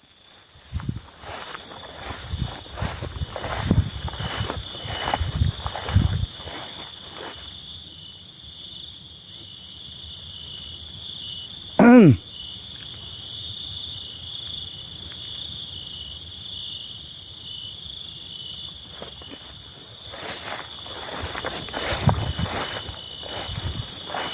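Crickets chirp at night around an old unmarked grave site in Rokan Hulu, forming a loud, continuous high-pitched trill. Brief rustling and footstep-like thuds come and go beneath it, and a short squeal cuts in midway.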